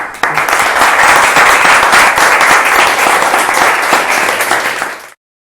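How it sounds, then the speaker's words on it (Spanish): An audience at a Spanish-language programming talk breaks into steady applause, dense and loud from start to finish, then cuts off abruptly. "pues un aplauso"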